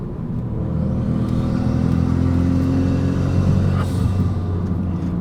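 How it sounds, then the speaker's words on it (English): Renault Megane RS RB8 engine droning and building revs through a stainless steel straight-pipe exhaust, loud and steady with a deep, continuous rumble, no voices over it. "I say exhaust system, it's just a straight pipe that's stainless steel, so it sounds incredible."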